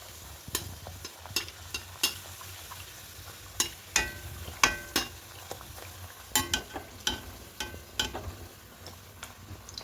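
Peas kachori frying in hot oil in a wok, a steady sizzle under a run of sharp clicking and tapping hits that come at irregular intervals, close and moderately loud, with no talking.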